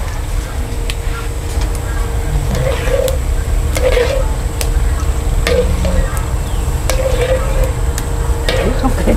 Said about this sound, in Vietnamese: Này chiên xương qua cho nó vàng là được.